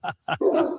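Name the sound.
Great Dane dogs barking in the background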